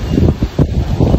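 Gusty wind buffets the microphone in repeated low rumbling bursts, loud and close, with no voices, in the Rashidiya neighborhood, United Arab Emirates.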